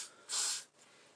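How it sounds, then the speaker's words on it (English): A single short hiss of hair adhesive spray onto a wig's lace, lasting about half a second, close by in a quiet room. "Now I'm going to spray a little bit on top of the lace."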